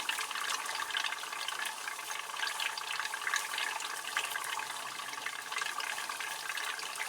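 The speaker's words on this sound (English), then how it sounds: "Aside from all the bubbling." Steady rushing, bubbling liquid churns continuously in a PC water cooling loop chilled with liquid nitrogen, at a close, even level, with no voices over it.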